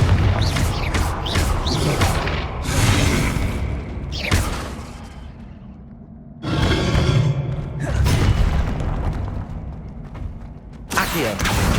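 Repeated Confringo blasting-spell explosions in Hogwarts Legacy: a series of loud booming blasts and crashing thuds, several bursts spaced across the stretch with brief lulls between, mixed with swooshing spell effects and mechanical clatter.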